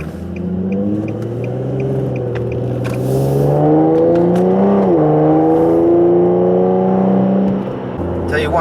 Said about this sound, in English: The Motordyne adds a ton of growl character to the car. It sounds like a race car.